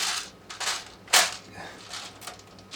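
Airsoft gun powered by an 11.1v LiPo battery firing at a target: a sharp burst of quick snapping shots with one louder crack near the middle, fairly close and with no talking.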